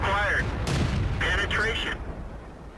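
A Type 64 light tank's gun fires in World of Tanks, one sharp booming shot rising over a steady engine drone and in-game sounds, then the noise fades away.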